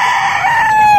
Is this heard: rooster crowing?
yes